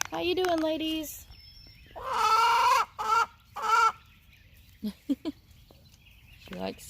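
Backyard hens cluck and squawk in bursts at close range, with loud harmonic calls and a few short clucks separated by pauses.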